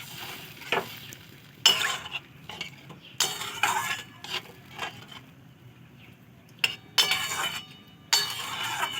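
Potatoes with poppy seed stirred in a pan while cooking a spicy egg-and-potato curry; bursts of clinking and scraping from a spatula against the pan repeat at irregular intervals over a low background hiss, close and moderately loud, with no talk.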